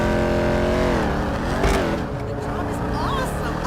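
The Vapid Dominator GTX muscle car in GTA 5 revs its engine, a loud throaty drone rising and falling in pitch with sharp exhaust pops, while a voice talks over it.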